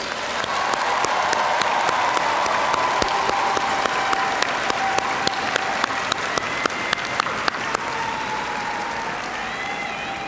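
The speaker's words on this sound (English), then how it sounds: "So can we collectively give the class of 2022 another round of applause?" A large audience applauds steadily for the graduating class of 2022 at the Cedar Shoals High School graduation ceremony, dense sustained clapping with crowd noise filling the whole stretch.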